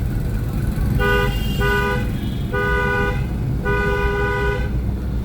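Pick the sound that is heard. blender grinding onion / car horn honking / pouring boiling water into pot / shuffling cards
car horn honking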